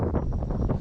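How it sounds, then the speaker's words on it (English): Strong wind buffets the microphone on open ground beside a cow field in Scotland, a loud low rumbling roar that gusts continuously with nothing else audible. "It's really windy at this point"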